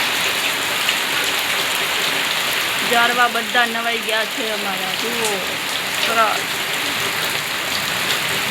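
Steady rain falls over trees and plants around a village home in Gujarat, a constant wash of close patter while someone talks over it.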